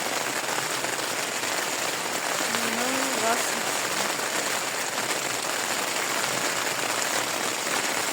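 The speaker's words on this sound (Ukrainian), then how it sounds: "А, пішов дощ." Steady rain falls in the Carpathian mountains of Romania around a hiking camp, a continuous even hiss throughout, with a brief voice speaking in the middle.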